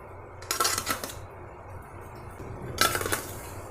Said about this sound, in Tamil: உப்பு போட்டு நல்லா நம்ம கலக்கி விட்டுடலாங்க.